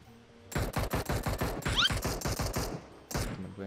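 A player's gun in a shooter video game fires a rapid, regular burst of about a dozen close, loud shots. It pauses briefly, then a couple more shots follow.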